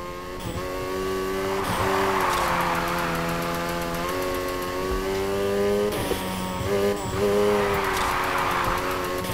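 Sustained whine of a car engine held at high revs while sliding through a drift in NFS Heat, with tire squeal and brief dips as the throttle lifts and picks back up, loud and continuous with no talking.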